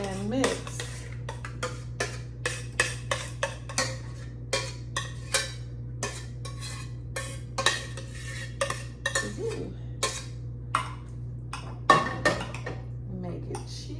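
Cauliflower being folded into a cheese sauce in a pan just taken off the heat: a steady run of close, sharp clinks and scrapes as a utensil knocks the pan roughly every half second, over a constant low hum.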